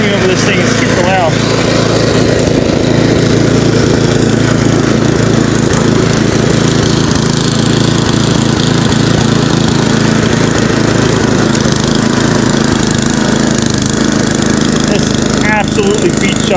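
A 26-inch snow blower engine runs loudly and steadily in cold winter weather, a continuous close-up mechanical roar throughout, with someone talking faintly beneath the noise.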